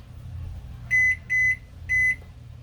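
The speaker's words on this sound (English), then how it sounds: "Let me set my timer." Three clear electronic beeps from an oven timer being set, tonal and evenly loud, the first two close together and the third after a short pause, over a low background hum with no talk.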